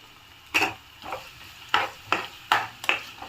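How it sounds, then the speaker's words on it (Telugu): Chopped onions frying in a pan of oil with cinnamon stick, cloves and cardamom, stirred in a series of sharp, scraping strokes about every half second over a low background sizzle. "ఇప్పుడు ఇందులోకి కట్ చేసి పెట్టుకున్న ఆనియన్స్ వేసుకుందాము."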